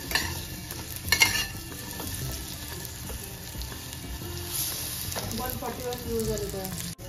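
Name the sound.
stir-frying in ghee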